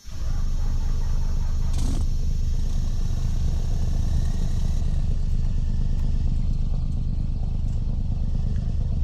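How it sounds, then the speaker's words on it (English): A beat-up second-generation Ram pickup truck engine idles steadily and loudly throughout, with a continuous low rumble and a belt squeak in a Roblox Greenville game setting, no talking. "aside from the belt squeaking that you guys hear, this does have an idle sound"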